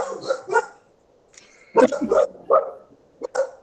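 A dog barks in short bursts, several sharp barks and yips spaced irregularly, close and fairly loud against a quiet background.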